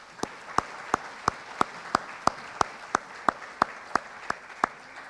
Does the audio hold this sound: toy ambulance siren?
no